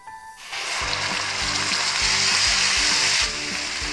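Onion paste sizzling and frying loudly in a hot spiced tadka for shahi paneer, with a steady crackle and a few stirring or scraping sounds, no voices.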